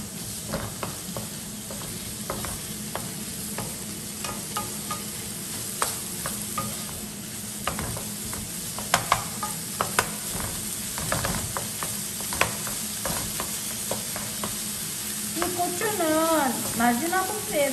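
Vegetables stir-fried in a sizzling pan, with steady frying hiss and repeated scraping clacks of a utensil against the pan throughout, getting busier toward the end; no talk over it.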